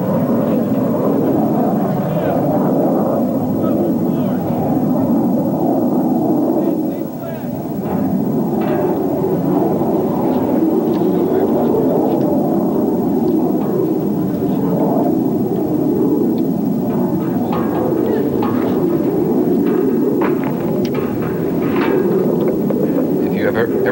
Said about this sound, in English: We hear the aircraft coming to Qasr now.